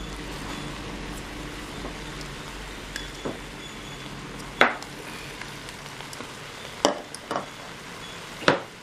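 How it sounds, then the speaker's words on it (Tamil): A spoon stirs freshly ground coconut, green chilli and cumin paste into cooked avial vegetables in a pot. The stirring is soft and faint, with a few sharp clinks of the spoon against the vessel near the end. "இதில் நல்லா மிக்ஸ் பண்ணி விட்டுக்கலாம்"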